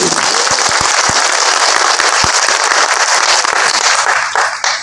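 A large crowd at a traditional Hajong Deuli festival event breaks into loud, dense applause with a few sharp individual claps, the clapping thinning slightly at the end.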